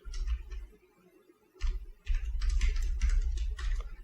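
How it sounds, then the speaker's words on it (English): Keys clatter on a computer keyboard in two bursts of typing, a short flurry, a pause, then a longer run of quick taps over a low background hum, with no talking. "you just type in"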